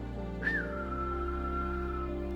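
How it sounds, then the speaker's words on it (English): A single loud, clear whistle rises briefly then settles into a long steady tone, sustained for nearly two seconds over a constant low hum. "a two-tone whistle"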